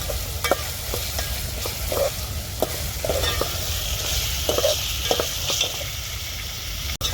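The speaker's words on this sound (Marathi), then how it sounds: "तर आता मी मिरच्या पण परतून घेतल्या" Long-cut green chillies with ginger-garlic paste sizzle steadily in hot oil for egg biryani, with repeated spoon taps and stirring scrapes against the pan, close up and without speech.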